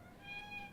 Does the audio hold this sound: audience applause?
no